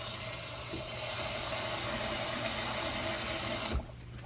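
Tap water runs steadily into a pot of potatoes in salted water in a home kitchen, a continuous close rushing that ends abruptly near the close.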